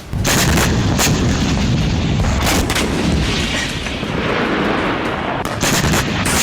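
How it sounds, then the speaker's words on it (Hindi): A second hypersonic missile strike brings loud, sustained rumbling explosions with dense crackling bursts and sharp booms layered over one another, continuing without pause and without speech. "अब इसी हाइपरसोनिक हथियार का दूसरा प्रहार देखिए"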